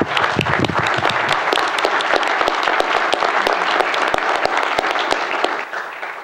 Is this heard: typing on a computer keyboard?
no